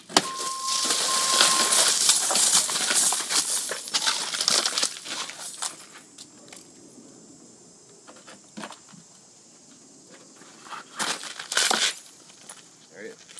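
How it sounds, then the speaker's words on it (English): Patio door glass struck with a center punch shatters with a loud crunching burst, then loose shards clink, jingle and patter down in scattered bursts, with someone talking over part of it. "We're going to break through it with this standard center punch."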